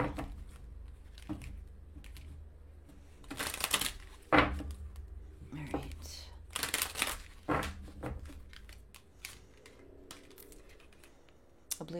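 Tarot-style cards being shuffled and drawn during a card reading, heard as several short, crisp bursts of riffling and flicking over a quiet room, with no talking.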